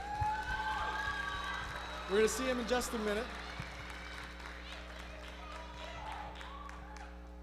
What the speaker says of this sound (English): So just give them a little round of applause to start with.